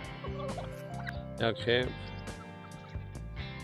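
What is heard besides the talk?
roosters crowing at an outback camp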